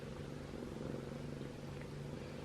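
A cat purrs softly and steadily at close range in a quiet home, a continuous low rumble with no talking.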